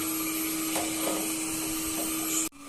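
A Hobot 388 window-cleaning robot runs on a window glass with a steady, loud motor whine and suction hum, a few soft bumps as it moves, then cuts off abruptly near the end.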